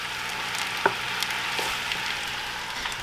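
A pan of rum sauce for grouper bubbles and sizzles steadily as it boils down, a continuous hissing texture with a few faint pops and ticks, close and moderately loud with no voices.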